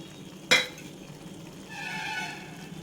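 A single sharp metal clank of egg pieces dropping into a pan for dhaba-style egg tadka, then a quiet pause before a soft, steady sizzle rises under a covering lid.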